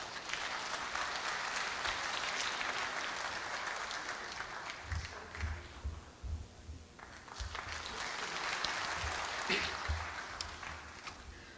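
An audience claps at a university's 110th anniversary ceremony, steady broadband applause that fades midway, then rises again before tapering, heard at a moderate distance in a large hall.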